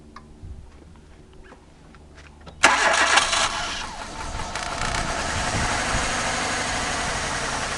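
A 2008 Hyundai Accent with a 1.6 liter engine cranks and fires up about two and a half seconds in, then settles into a loud, rough, uneven idle close by that carries on steadily to the end.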